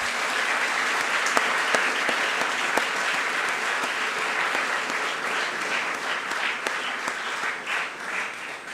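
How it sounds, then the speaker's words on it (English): An audience at a university inauguration applauds warmly, a dense, sustained clapping with scattered sharper claps that slowly thins toward the end. "So let's give a big round of applause."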